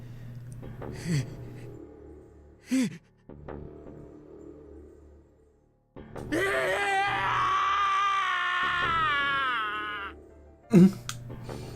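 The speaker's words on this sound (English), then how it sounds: "His scream echoed through the incineration chamber, full of rage and despair." A male character in the video game 999: Nine Hours, Nine Persons, Nine Doors screams in rage and despair in an incineration chamber, a long loud strained cry lasting several seconds, with shorter voiced gasps and outbursts before and after over low background music.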